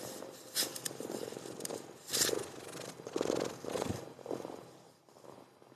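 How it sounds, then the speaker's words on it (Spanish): A pet cat purrs softly and close, a low continuous rumble that swells and fades in a few uneven waves, with faint rustling and no talk. "She's purring."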